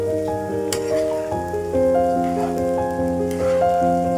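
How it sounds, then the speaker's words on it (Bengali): Rice sautéing in a pan for pulao gives a steady, rain-like sizzle that runs continuously beneath prominent melodic background music. "চালটা ভালো করে কষিয়ে নিতে হবে।"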